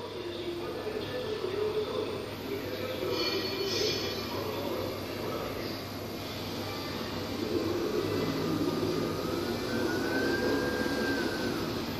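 A covered cord making machine runs unattended, giving a steady droning mechanical hum with a faint rhythmic rattle that stays even throughout, with a brief higher whine near the end.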